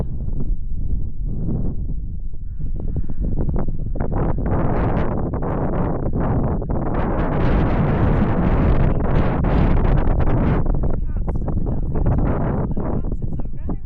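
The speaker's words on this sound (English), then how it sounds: "We just caught the wind again" Strong wind buffeting a microphone on a Scotland hillside, a loud continuous rumbling roar with gusting surges, while people talk.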